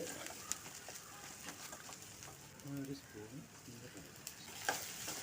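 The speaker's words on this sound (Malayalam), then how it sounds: "അതും കൂടി ഇട്ട് നല്ലതുപോലെ ഒന്ന് വഴറ്റി കൊടുക്കുക" Ginger garlic paste sautéing in a pan while a chicken curry is cooked, giving a faint, steady sizzle with soft stirring scrapes and a few brief clicks, under a short stretch of low background voice.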